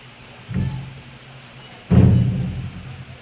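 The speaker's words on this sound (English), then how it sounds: "we have a board up here that's rattling against the metal frame" A loose board rattling against a metal frame in rain at a ballgame, two dull thudding rattles, a short one then a louder, longer one, over a low steady background.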